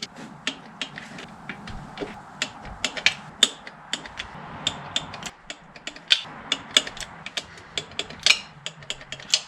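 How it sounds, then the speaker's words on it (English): Ratchet of a torque wrench tightening valve cover bolts on a 2003–07 Honda Accord V6: rapid, sharp clicking in uneven bursts, close and crisp against a quiet background, with no talking. "I'm going to set my torque wrench to 16, and let's torque them down"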